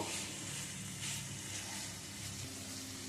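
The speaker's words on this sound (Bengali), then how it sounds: "কাঁকরোলার আলু দিয়ে আবারও মিশিয়ে নিয়ে নেড়ে ছেড়ে নেব" Spiny gourd and fried potato in poppy-seed paste get stirred in a pan over a continuous, fairly quiet sizzle, with a soft scraping hiss throughout.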